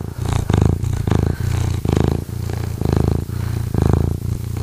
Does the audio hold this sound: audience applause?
no